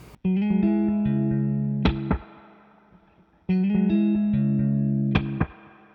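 Two bright electric guitar chords through an Octopus pedal ring out with a quick echoing slapback repeat and a wash of reverb, each fading before the next strum.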